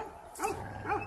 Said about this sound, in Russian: Эй, перестань гавкать!